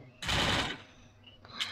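Gunfire in Garena Free Fire: a loud, rapid automatic burst lasting about half a second, then a brief quieter pause and one more short sharp shot near the end.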